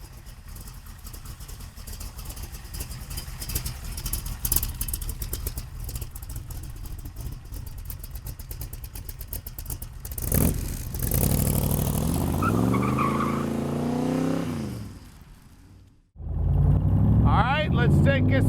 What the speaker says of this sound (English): Let's take this Superformance Cobra for a ride.